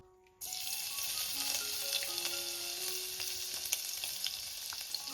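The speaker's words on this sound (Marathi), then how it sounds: "आता आपण फोडणी मध्ये पहिले लसूण टाकूया" Garlic hits hot oil for a tempering, bursting into a bright steady sizzle that continues evenly at close range, with a faint tonal ring from the pan and no talk.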